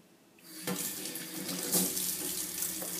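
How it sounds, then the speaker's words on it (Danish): Tap water running into a sink while hands are washed before cooking, a steady close splashing stream that starts abruptly and continues without talk. "inden vi går i gang med at lave maden, så er det rigtig vigtigt, at vi får vasket vores hænder"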